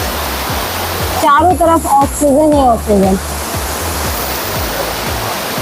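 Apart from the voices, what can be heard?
waterfall flowing in a forest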